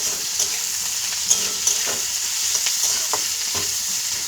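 Sliced onion and cut potato fry in a pan for a small-fish curry, a bright constant sizzle broken by soft spatula scrapes and stirring taps at close range.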